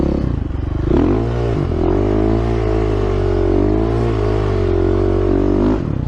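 A motorcycle engine roars loud and close during a right-hand drift, holding a steady high rev with a rising pitch at the start and a quick drop at the end, with faint clatter and scraping underneath.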